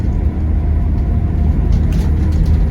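A 1990s Toyota Hiace van labours up a hill in third gear at full throttle around 40 km/h, a steady loud engine drone and road rumble heard from inside the cab, with no talk.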